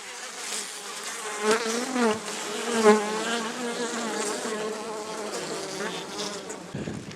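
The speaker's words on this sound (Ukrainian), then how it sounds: "От бджілки сидять." Honey bees buzzing at a beehive in an apiary, a close, continuous droning hum with wavering pitch as individual bees pass near, steady throughout with a brief rustle at the end.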